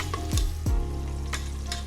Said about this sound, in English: once we get that into our pressure cooker, now of course we're still on sear